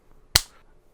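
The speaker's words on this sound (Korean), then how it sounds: "이거는 박수 한번 치고 갈게요." A single sharp hand clap at a sushi omakase counter, crisp and close, standing alone in a quiet room.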